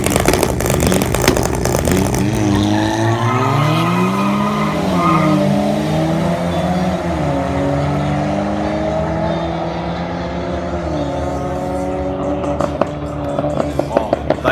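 Drag racing car at Interlagos, heard roaring as it accelerates, loud engine pitch sweeping up through several gear changes over a long run, with some tire noise and faint talk underneath.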